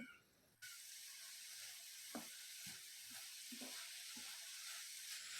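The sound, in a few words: stirring spinach and spice paste in a pan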